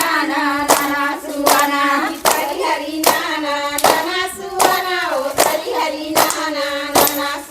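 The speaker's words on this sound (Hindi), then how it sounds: "नाचता है ना तो एक सुर एक ताल में ताली बजते" During a suwa folk dance, people clap hands together in a steady, even rhythm, with sharp, close claps falling roughly every second. The claps sit over a group's prominent sung melody.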